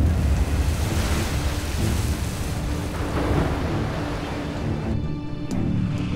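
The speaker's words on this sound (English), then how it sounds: "There's some big waves out there." Big ocean waves roll and crash during Typhoon Nuri, a continuous heavy roar of surf mixed with buffeting wind noise across the microphone, loud and close throughout.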